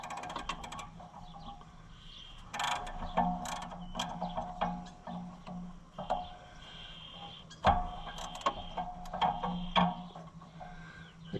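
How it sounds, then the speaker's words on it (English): A hand ratchet turning bolts during a repair job, a steady series of quiet clicking pawl bursts and metallic ticks spread over several seconds, close by with no talk. "This one we might get most of the stuff with the ratchet."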